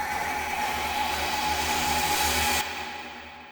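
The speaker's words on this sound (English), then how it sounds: "So next up, we just have a very simple riser." A simple riser effect from a sample pack in Ableton, a broad hissing noise sweep rising steadily and loud, then cutting off sharply near the end and fading.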